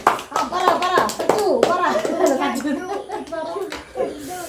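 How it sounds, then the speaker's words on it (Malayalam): Hands clap repeatedly to cheer on a child at home, with quick uneven claps running through overlapping voices, including a child's. "കൊച്ചിനെ കൈയടിച്ച് പ്രോത്സാഹിപ്പിക്കേ."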